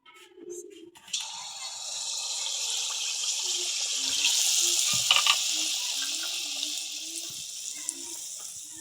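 Rice-flour teler pitha batter poured into hot oil, a broad steady sizzle that swells and bubbles for several seconds, with a few faint clinks and someone speaking quietly underneath.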